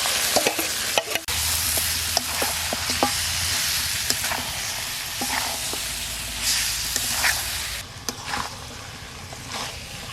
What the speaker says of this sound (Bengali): আলু ভাজা তেলে এবার মাংসটা দিয়ে দিচ্ছি।